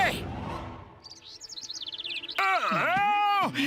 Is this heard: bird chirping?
yes